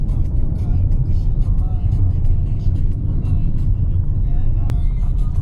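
A truck rolls along a road, a steady, loud low rumble of traffic noise with voices speaking over it throughout.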